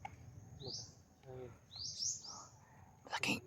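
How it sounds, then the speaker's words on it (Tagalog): A large white bird calls outdoors in a few faint, rising chirps, moderately distant, over low rumbling background noise. "Malaking ibon na puti mga idol."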